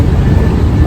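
A TSRTC bus drives on a highway, its engine and road rumble a loud, steady low drone heard from inside the cabin.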